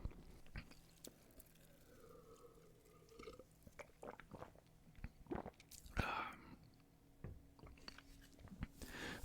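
Crumbl cookie thins, including cake batter and red velvet, are crunched and chewed up close in quiet ASMR style, with soft, irregular bites and crisp crackles spread across several seconds.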